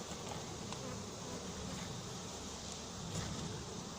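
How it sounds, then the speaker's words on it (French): A swarm of winter honeybees buzzing steadily, a dense continuous hum that stays even and fairly quiet throughout, with no voices. "Alors c'est des abeilles d'hiver"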